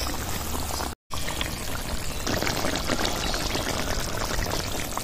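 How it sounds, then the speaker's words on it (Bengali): Cabbage koftas tipped into water in a pan for a vegetarian curry give a steady close splashing pour with bubbling, broken once by a brief gap, then continuing unbroken and loud. "এবার কোপ্তাগুলো ঢেলে দেবো"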